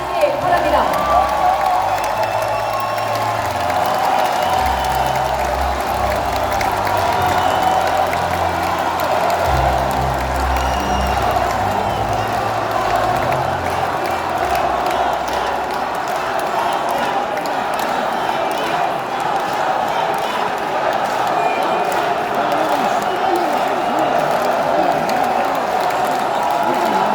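A large crowd at a Democratic Party convention in Jeonbuk claps and cheers steadily in a dense, unbroken roar that fills the hall, with a few faint, scattered thuds under it.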